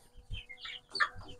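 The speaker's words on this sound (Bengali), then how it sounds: "এই যে দেখেন মুরগিগুলা" Chickens raised in a closed farm shed, 55 days old, give a few short clucks and chirps, close and fairly quiet, with no talk.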